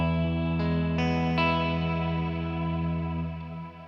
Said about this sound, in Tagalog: Dinig nyo yung trails niya. Ang ganda ng tunog ng trails niya.